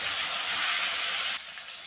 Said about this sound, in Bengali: তো আলুগুলো দিয়ে দিচ্ছি। প্রথমে আলু ভেজে নেব।